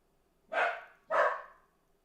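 Two loud dog barks, about half a second apart, close by with a quiet pause between them.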